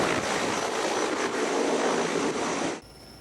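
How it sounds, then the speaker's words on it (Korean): A heavy firefighting helicopter loaded with water lifts off for a wildfire at night, giving a loud, dense, steady rotor and engine roar that cuts off abruptly near the end. "물을 가득 채운 육중한 헬기가 산불 현장을 향해 이륙합니다"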